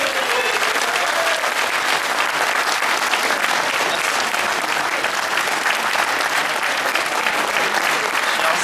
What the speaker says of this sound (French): je vais vous demander un tonnerre d'applaudissements pour notre invité d'honneur